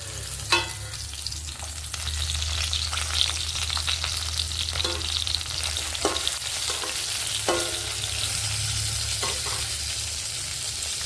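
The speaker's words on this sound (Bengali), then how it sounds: "এই যে মাছ ভাজা হচ্ছে" Fish sizzles steadily in hot oil, a constant crackling hiss with occasional sharper pops and spatters close by.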